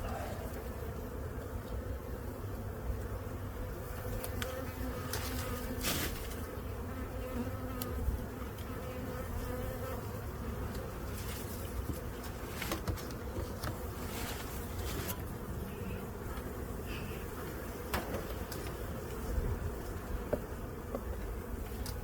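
Honey bees swarm around an opened hive box full of bees and honey, a continuous dense drone of many wings close by, steady throughout with brief louder passes as individual bees fly near.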